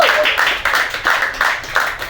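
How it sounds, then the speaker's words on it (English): Audience clapping at a comedy show, a burst of bright applause that rises and falls in rhythmic waves for a couple of seconds, fairly close and loud with no talk over it. "make some noise for Charlie, guys."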